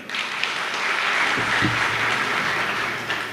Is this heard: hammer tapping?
no